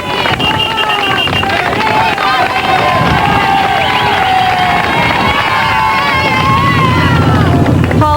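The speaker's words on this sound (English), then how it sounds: "To the cheers of the crowd along the Promenade des Anglais" Loud, continuous crowd cheering and shouting along the Promenade des Anglais in Nice during a triathlon, a dense roar of many voices with whistles, wind buffeting and commentary-like talk mixed in.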